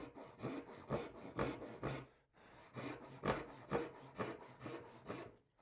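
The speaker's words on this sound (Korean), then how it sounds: "오른쪽에 스치게 톱질을 하고" Hand saw cutting wood for a three-way mitre joint in traditional joinery, a steady rhythm of close rasping strokes in two runs with a brief pause between.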